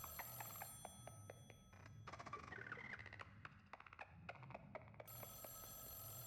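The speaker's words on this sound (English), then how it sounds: "Behind you, a phone rings." A telephone bell rings repeatedly in the video game Echostasis, sounding as a series of sharp, evenly spaced metallic trills that fill most of the stretch before settling back into a steady tonal hum.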